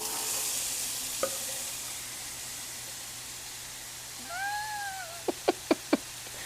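Apple and jalapeño sizzle in olive oil on a Blackstone griddle, a steady close hiss running throughout while a cat meows twice and a few sharp clicks ring out near the end.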